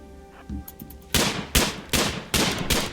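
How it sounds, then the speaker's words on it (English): Gunshots from a colonist hunting in the video game Rimworld, four sharp reports at roughly even intervals, each followed by a short decaying tail, after some quieter game sounds. "he'll just shoot anything in range"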